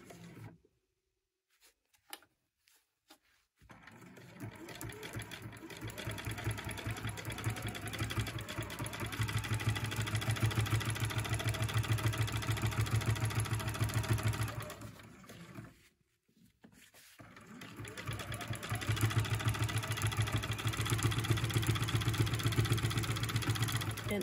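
A sewing machine stitches through batik canvas for a backpack, a steady mid-volume mechanical whir running in two long bursts separated by brief pauses, with quiet gaps at the start.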